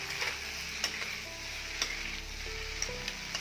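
Pasta gets stirred in a frying pan, a continuous gentle sizzle with occasional light spatula taps and scrapes, close but fairly quiet, and no one speaking.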